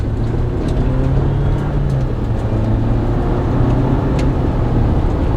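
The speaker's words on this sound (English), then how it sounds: "we'll get a little acceleration out of here for you from now in the Jeep Wrangler" A Jeep Wrangler engine hums steadily at close range, a low continuous rumble with slight rises in pitch as it pulls away and picks up speed.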